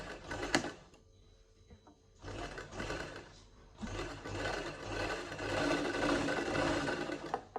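A sewing machine stitches a lined kameez, running in steady whirring bursts with a short pause in the middle, close and fairly loud.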